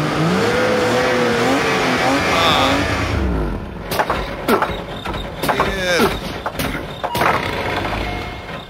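A car pulls away from a fast-food drive-thru, its engine roaring loudly up close at first before fading under shouted voices and scattered bumps.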